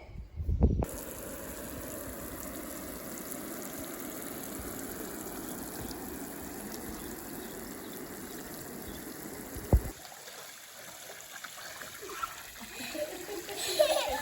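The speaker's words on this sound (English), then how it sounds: "Let's go ahead and turn on the water." A hose-fed splash pad for kids and dogs, set outdoors, sprays and splashes water in a steady, continuous hiss after a brief start; near and moderately loud, shifting slightly toward the end.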